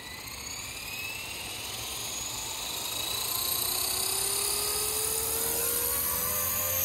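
A Blade 230s Smart v2 RC helicopter flies outdoors with a steady, high-pitched rotor and motor whine that rises and falls slightly as it maneuvers, growing louder toward the end, with no talking.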